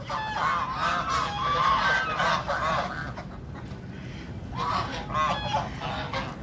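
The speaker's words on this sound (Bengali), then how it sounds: "দেখুন এখানে কত রাজহাঁস" A large flock of geese at a Jhargram palace garden honks in repeated overlapping bursts, loud and close, with a brief lull midway before another round of calls.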